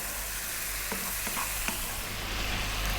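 Tomatoes with turmeric and spices cooking down in a pan for a vegan pumpkin curry, a steady soft sizzle with occasional light stirring clicks, close and continuous with no talking.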